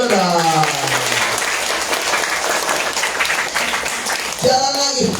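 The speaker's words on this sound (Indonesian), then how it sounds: "Tepuk tangan dulu dong." Loud, close audience clapping at a gathering with Quran memorization students, a dense burst of many hands, with a voice speaking briefly at the start and again near the end.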